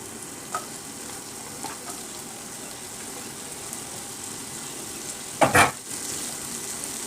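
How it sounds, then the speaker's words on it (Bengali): Potatoes fry with onions in a pan for a pointed gourd bhaji, a soft steady sizzle with a few light stirring taps and a brief louder scrape near the end. "আলু দিয়ে আমি ভালো করে নেড়ে চেড়ে নেবো"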